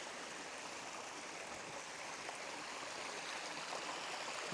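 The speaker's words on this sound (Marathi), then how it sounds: "समोरून पाणी पडायले." Water tumbling down near Tungari Dam in the rainy season, a steady broadband rush that stays close and even throughout, with no voices over it.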